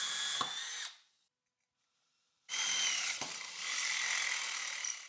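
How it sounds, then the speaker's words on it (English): Two bursts of a high-pitched power drill biting into metal, loud and close, separated by a couple of seconds of silence. "I can then work out where to drill a hole so that I can run the cable through."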